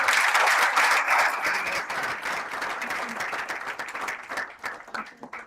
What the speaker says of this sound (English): Fellow students, let's take this moment to give a round of applause to the President.